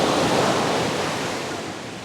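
Broad rushing wind at a beach in Alappuzha on the Kerala coast, blending with the wash of surf, steady and fairly loud, then easing slightly.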